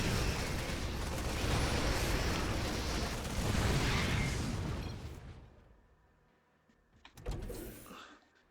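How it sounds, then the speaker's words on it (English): Artillery fire from siege tanks in the video game StarCraft II, a loud, sustained roar of booming impacts for several seconds that fades almost to silence before one more sharp blast. "The siege tank getting some really good hits off"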